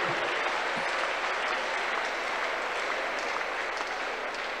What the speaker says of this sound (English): Clap unto God of choosing